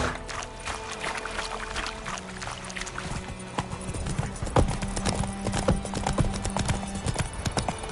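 Roach the horse trotting in The Witcher 3, a continuous rhythm of hoof clops at close range over low ambient background.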